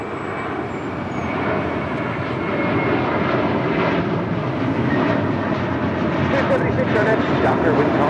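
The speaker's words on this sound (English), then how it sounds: "And heading to JFK, American Airlines Flight 184 in an A321 taking off." American Airlines A321 jet taking off from Los Angeles International Airport, a loud broad engine roar building steadily over several seconds, heard from a distance outdoors, with faint talk mixed in.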